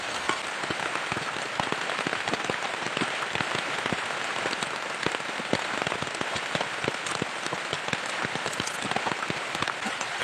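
Steady heavy rain pattering on a surface, dense and continuous with sharp drop impacts throughout, close and loud, out in the open near a big tree being cut, with no talking.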